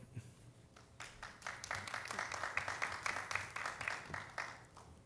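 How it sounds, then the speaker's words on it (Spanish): Conference audience applauding two presenters from the University of Puerto Rico at Ponce, scattered claps building into a fuller, fairly quiet round of applause that swells and slightly fades toward the end. "recibámonos con un fuerte aplauso"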